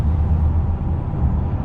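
A heavy truck rumbles past close by, heard from inside a 2019 Honda Passport, a steady low engine drone with a hiss of air brakes, loud and continuous.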